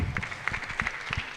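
Scattered clapping from a small audience at a Microsoft Learn training session, a few uneven hand claps sounding over a hollow room tone and faint background voices.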